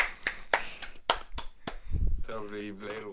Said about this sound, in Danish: Det fortjener en lille klapsalve.